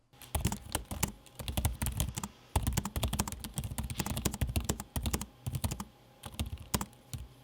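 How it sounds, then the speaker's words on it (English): Rapid, uneven clatter of soft keys being typed on an MSI Creator 15 laptop keyboard and trackpad, with a few brief pauses between bursts, close and fairly quiet. "Regarding the keyboard and the trackpad, here is a quick noise test"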